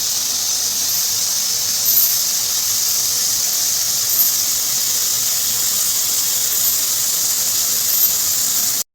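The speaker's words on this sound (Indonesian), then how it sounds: "Lalu aduk sampai semua bahan tercampur merata dan masak semua bahan sampai matang dan bumbunya meresap ke tahunya ya Bun." Tofu and bean sprouts stir-frying in a pan for oseng tahu tauge, a steady loud sizzling hiss that holds unchanged for the whole stretch with faint brief scrapes every couple of seconds.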